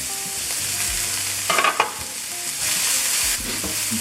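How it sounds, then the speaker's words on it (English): Tomatoes drop into a hot pan of garlic and set off a loud, steady sizzle. Brief stirring scrapes run through the frying, with no voices. "Then I'm going to add in my tomatoes"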